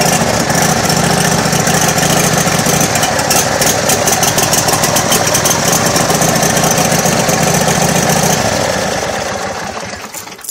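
A car engine with a clutch and a stereo fitted turns over and settles into a steady, rough, loud idle, then fades slightly near the end.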